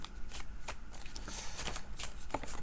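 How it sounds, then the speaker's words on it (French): Tarot cards being cut and shuffled by hand, a quick run of soft papery riffles and flicks, close and fairly quiet, with no voice over them. "On va faire une coupe que je ne vais pas regarder pour ne pas être influencé"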